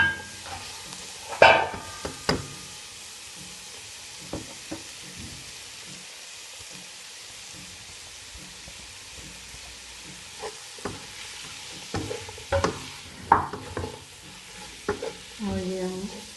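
Vegetables stir-frying in a pan for chicken macaroni pasta, with a constant crackling sizzle like light rain and repeated louder clanks and scrapes of stirring, near and sustained.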